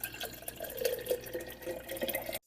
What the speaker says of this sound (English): I'm gonna transfer it to this jar